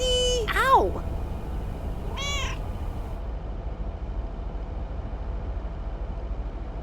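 A cat in the video game Lake gives two short, rising-and-falling meows over a low, steady ambient hum, then the hum continues alone.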